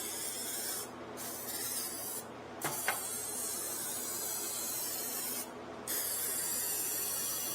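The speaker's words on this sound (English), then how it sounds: "some cooking spray in there to keep it from sticking." Several short hissing bursts of cooking spray into a large pan, with brief pauses between them, over a steady background hum; a small clink sounds partway through.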